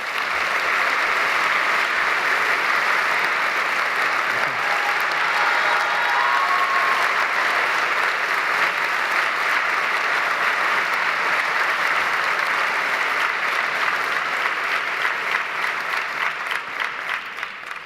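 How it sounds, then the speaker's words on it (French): A large audience applauds at a medical graduation ceremony, dense steady clapping sustained throughout and thinning slightly near the end. "Je vous propose de les applaudir aussi."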